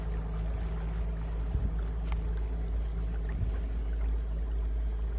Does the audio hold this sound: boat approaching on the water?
yes